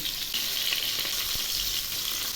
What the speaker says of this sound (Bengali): মাছ ভাজা হয়ে গেছে এবারে আমি মাছগুলো নামিয়ে নিচ্ছি